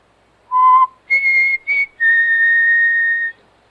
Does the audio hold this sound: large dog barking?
no